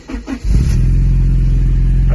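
A Porsche 944 2.7 Lux engine cranks briefly and fires, then settles at once into a loud, steady, rumbling idle close by, with no talking.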